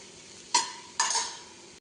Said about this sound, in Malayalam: മുളകിൻ്റെയൊക്കെ കുത്തൊന്ന് പോയി കിട്ടണ വരെ ഒന്ന് ഇളക്കി കൊടുക്കുക